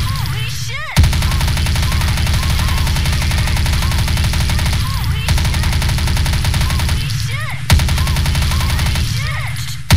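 An MP5 WindRunner submachine gun in the video game Truy Kích fires in long sustained automatic bursts, loud and dense, briefly broken by short pauses, with a voice speaking faintly underneath.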